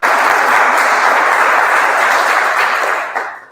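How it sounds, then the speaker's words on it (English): A crowd at a Father's Day pledge event for the Prince George's County Department of Family Services gives a loud, dense round of applause that holds steady for about three seconds before tapering off. "Can we give them a round of applause?"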